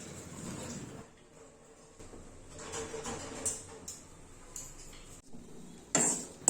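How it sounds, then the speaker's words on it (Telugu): Dishes and utensils clatter in a home kitchen as it is cleared during cooking, with scattered clinks and knocks at moderate volume and sharper bursts near the end, no talking. "ఇంకా కిచెన్ అంతా కూడా క్లియర్ చేస్తూ ఉన్నాను"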